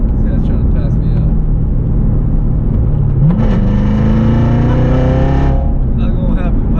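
Chevrolet Corvette C7 Z06 engine rising in pitch under hard acceleration while another car tries to pass, a steady close drone that climbs for a couple of seconds then cuts off, with a voice talking over it.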